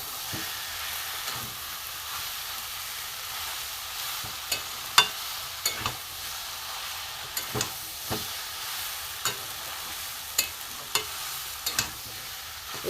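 Mashed boiled potato stirred in a hot pan with prawn and vegetable filling, a soft low sizzle punctuated by irregular scraping taps of the spoon, fairly quiet and close.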